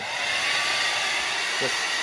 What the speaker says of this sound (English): I have a blow dryer here too, and I'm going to heat the wax up and get it a little bit softer